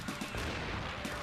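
In the mecha video game Mobile Suit Gundam Side Story I, a grenade launches as a dense, loud burst of booming, crackling blasts that fills the whole short moment, with rapid repeated thumps.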